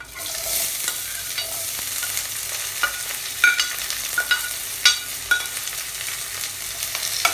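Dried chilli and chopped ingredients frying in a pan for a tapioca upma dish, a steady close sizzle with sharper crackles and spatula scrapes as they are stirred, with no speech over it.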